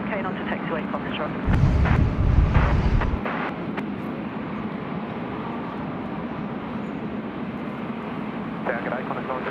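Vietnam Airlines airliner in SkyTeam livery at Sydney Airport on windy runway 25: a broad, rumbling jet roar that swells briefly, then settles into a steady background drone beneath voices.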